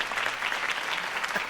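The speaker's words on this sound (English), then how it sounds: "If only Mr. Wayne, my campaign's largest backer, could have heard that applause" Crowd applause after a campaign speech in the Batman Telltale video game, a brief dense patter of clapping from a gathered audience, steady and moderately loud.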